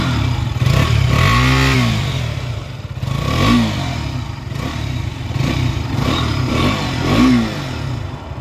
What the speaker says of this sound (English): now let's hear the sounding of this bike